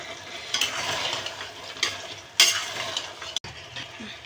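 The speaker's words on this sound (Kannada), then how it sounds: "ಮಸಾಲೆ ಎಲ್ಲ ಕುದೀತಾ ಇದೆ ಈಗಿಲ್ಲಿ ನಾನು ತರಕಾರಿಗಳು ಹಾಕ್ಕೊಳ್ತಾ ಇದ್ದೀನಿ ಕ್ಯಾರೆಟು ಬೀಟ್ರೋಟು ಆಲೂಗಡ್ಡೆ ಹೂಕೋಸು ಹಾಕ್ಕೊಳ್ತಾ ಇದ್ದೀನಿ" Carrot, beetroot, potato and cauliflower fry in bubbling masala for vegetable pulao, a continuous sizzle broken by a few sharp stirring scrapes and clatters nearby.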